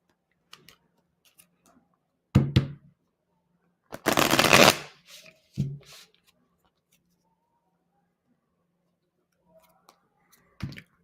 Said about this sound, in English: you shuffle too loudly